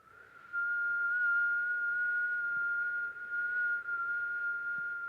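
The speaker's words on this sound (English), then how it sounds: "Whistle on the exhale." A single held whistle carries a long exhale in a breathing practice, one steady, pure high tone with slight wavers, close and unaccompanied by any talk.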